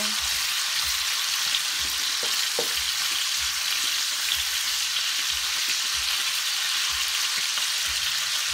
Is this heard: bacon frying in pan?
yes